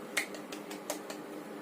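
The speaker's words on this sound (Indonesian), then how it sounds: "tepuk tangan untuk kita semua" A small group in a microteaching classroom gives a short round of applause, a handful of sharp, sparse claps spaced unevenly over a quiet, faint background with no voices.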